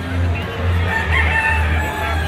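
A Sweater gamecock crows loudly and close by at a gamefowl expo, one sustained harmonic call rising and falling over a busy hall murmur.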